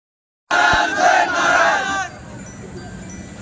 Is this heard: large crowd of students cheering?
yes